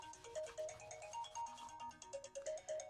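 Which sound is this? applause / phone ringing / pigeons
phone ringing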